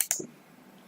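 A few quick clicks of typing on a computer keyboard, close and crisp, a brief burst of keystrokes that fades into quiet room tone.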